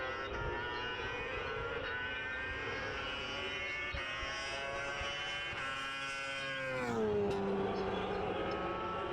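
F2 sidecar racing outfits scream past at a race finish, their high-revving engines producing a loud, steady layered whine whose pitch sweeps down near the end as machines overtake and pass by.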